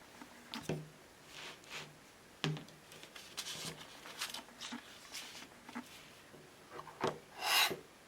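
Printed paper Christmas cards are trimmed by hand, with quiet scattered rubbing, sliding and cutting strokes and a few soft taps, close by in a quiet room.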